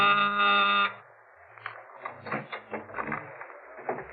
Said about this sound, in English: when my door buzzer